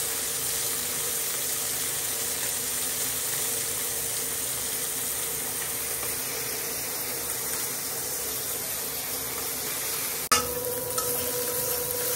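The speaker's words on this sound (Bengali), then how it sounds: "পেঁয়াজ কুচি দিয়ে দিচ্ছি, পেঁয়াজটা ভেজে নিই" Chopped onion fries in a pan with a continuous, even hiss of sizzling oil, broken by one brief clatter near the end.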